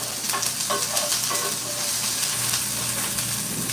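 Onions dropped into hot simmering coconut oil fry with a loud, steady, close sizzle and crackle that continues without a break, with no talking over it.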